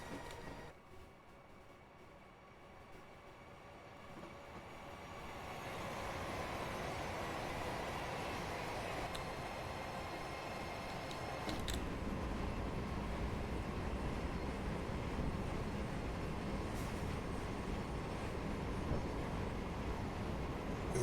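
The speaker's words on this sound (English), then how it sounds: "Quite an impressive train." A Class 700 Thameslink electric train runs in the video game Train Simulator Classic, heard from a trackside view. A broad rumbling roar builds steadily and grows louder as the train passes, with no talking.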